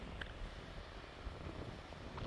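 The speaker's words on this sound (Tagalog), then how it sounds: "Simoy ng hangin." Constant wind roaring across the microphone at Werri Beach, Gerringong, Australia, a dense low rumble with faint surf-like wash beneath, no voices.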